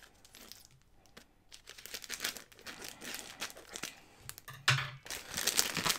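Cardboard shipping box of manga being cut open, with crisp crinkling and tearing of wrapping and tape in irregular close bursts, building louder toward the end.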